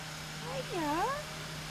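A cat in a cemetery gives a single clear, drawn-out meow close by, a short rising and falling cry against quiet outdoor hum, while a person speaks softly around it.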